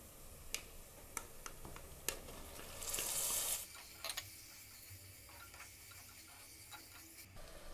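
Chicken pieces tipped into hot masala in a pan for a spicy pepper chicken fry, giving a brief loud hiss, followed by quiet sizzling and scattered spoon clicks against the pan.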